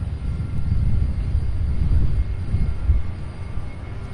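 A Boeing 767 airliner approaches Louisville International Airport: a steady, deep jet-engine rumble with no one talking over it, heard from outdoors.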